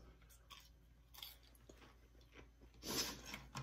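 Someone chews crunchy homemade fries up close, with soft irregular crunches and mouth sounds, quiet overall and slightly louder near the end.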